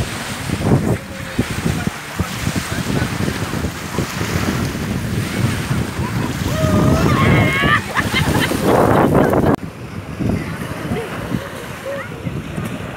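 Steady rush of surf and gusting wind buffeting the microphone, with a faint voice briefly audible partway through before the noise drops lower.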